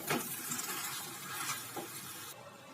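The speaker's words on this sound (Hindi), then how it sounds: "इसमें हम अपने आलू को मिक्स कर देंगे और इसे अच्छी तरह से मिक्स कर लेंगे" Boiled potatoes are stirred into fried green chillies in a cooking pan, with soft scraping strokes over a faint, steady sizzle, fairly quiet and without any talking.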